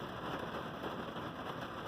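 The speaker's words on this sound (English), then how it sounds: "Hear that rain? Doesn't that sound great?" Steady rain drums on the roof of a parked van, a dense, even patter close overhead with no pauses or speech, like a wet day spent inside van living quarters.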